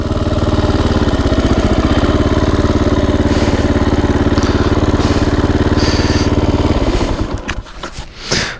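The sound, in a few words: Japanese 125 enduro motorcycle engine idling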